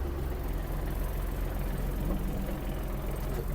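A Kubota GL-320 mini tractor engine idles steadily up close after its revs are lowered, a continuous low rumble with no speech.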